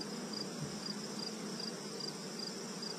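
Bees in a hive feeding on honey give a faint, continuous buzzing drone with a thin high hum over it, steady and without talk.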